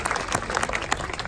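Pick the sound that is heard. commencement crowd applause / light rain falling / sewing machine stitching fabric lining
commencement crowd applause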